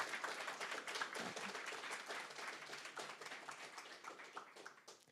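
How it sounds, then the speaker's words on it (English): Audience at a TypeScript meetup in Wrocław clapping, a dense, fairly quiet round of applause that holds steady for several seconds before tapering slightly. "have another round of applause"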